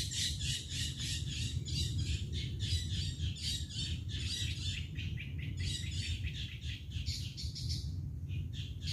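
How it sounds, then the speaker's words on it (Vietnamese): Dense morning chorus of many birds chirping and squawking continuously nearby, high and busy over a low steady background rumble, with no talking. "Bây giờ sáng ngày chim kêu quá trời."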